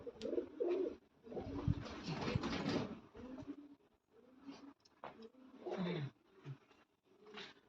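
Pigeons coo and flutter nearby in bursts, with soft rustling between calls and a few sharper wingbeats.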